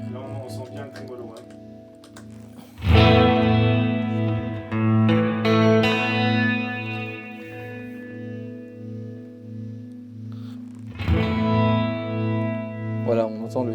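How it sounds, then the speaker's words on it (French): An electric guitar runs through an effects unit with tremolo switched on. Its sustained chords swell and pulse in a steady wavering throb, ring out, then return with a fresh strum near the end. "Là on sent bien le tremolo."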